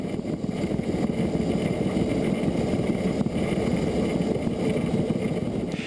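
Isle of Man Railway narrow-gauge steam locomotive running on the line to Douglas, a steady loud mechanical rumble and clatter throughout, close and continuous with no pauses.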